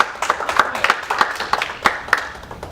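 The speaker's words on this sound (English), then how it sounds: "I think I'm the only one you guys clap for so far" An indoor conference audience claps for a presenter arriving on stage, a burst of scattered, moderately loud hand claps fading over a few seconds.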